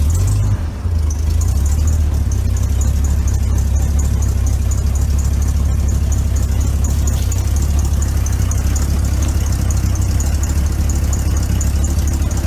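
A 1953 1.5-ton truck engine runs loud and close for the whole stretch, a steady, heavy low rumble with a faint whine above it and no clear rise in revs, with no one talking over it.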